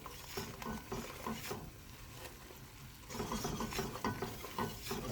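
A flour and butter roux is worked around a pan, with soft irregular scraping and stirring strokes over a faint sizzle, fairly quiet and close, no voices.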